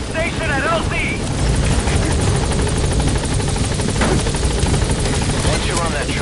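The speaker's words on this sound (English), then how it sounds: "Once you're on that chopper, we'll have to abort." A video game helicopter arrives at a landing zone in Afghanistan, its loud, steady rotor thrum and engine drone continuous and close throughout, with radio-style voices and chatter over it.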